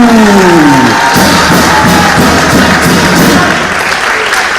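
Loud, close applause and cheering from a crowd at a school improvised theatre festival for the Okapis school team, sustained with shouts mixed in.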